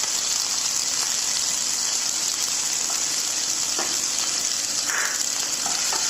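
Ginger and green chili fry gently in a pan over a low flame, giving a steady, even sizzle throughout with a few faint clinks of stirring and no talking.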